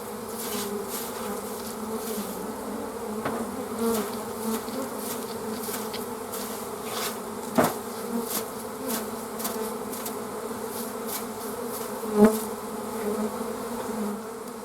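A steady, dense buzzing of many honey bees humming together around hive supers, continuous throughout with one or two closer bees droning past.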